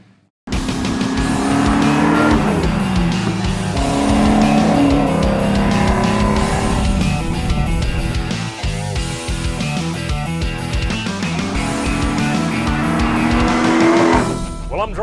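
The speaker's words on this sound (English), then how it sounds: "I'm driving it. This 1967 GT 500 Eleanor." A 1967 Shelby GT500 Eleanor is driven hard, its engine roaring loud and steady with shifting pitch and tire noise throughout, close and continuous.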